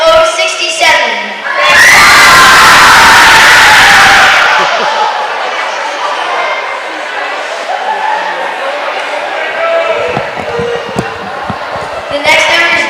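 A big crowd of young people at a basketball game erupts in a loud, dense cheer when a drawn number is called, swelling quickly and fading into lingering crowd chatter.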